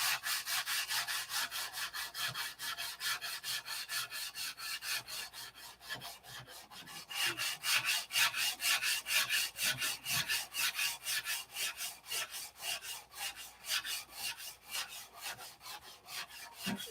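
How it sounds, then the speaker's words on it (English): Primer on a car body being sanded down by hand, a steady rapid back-and-forth rasping in regular strokes, close and continuous with no voices. "I've about got this primer sanded down as far as I can go."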